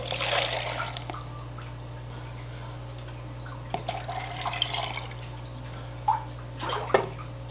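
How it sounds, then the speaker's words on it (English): Aquarium tank water is poured into a mixing cup: a brief splashy pour at the start, then quiet with a few scattered drips and small trickles, close by and with no speech. "I'm gonna get 2 cups of tank water poured into my mixing cup."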